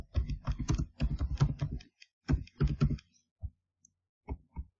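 Typing on a computer keyboard, quiet close bursts of rapid key clicks in runs, then sparser single taps spaced apart.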